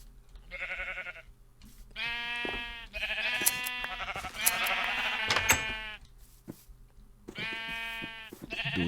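Sheep in the Minecraft video game bleat in several distinct harmonic calls, the bleats spaced apart with short gaps, fairly close and clear over a quiet background.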